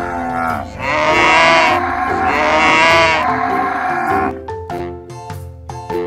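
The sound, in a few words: cows mooing, animated cartoon sound effect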